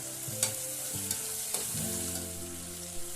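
Turmeric and coriander powder are stirred in a pan, giving a quiet, steady sizzle with a handful of sharp spoon clicks against the pan and a low hum running underneath.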